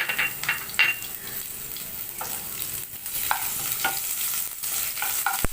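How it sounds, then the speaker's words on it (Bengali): Onions and a piece of cinnamon frying in hot oil, a steady close hiss of sizzling with intermittent scraping and stirring sounds, no voices present. "তেলটা ভালো করে গরম হয়ে গেলে দিয়ে দেব পেঁয়াজ"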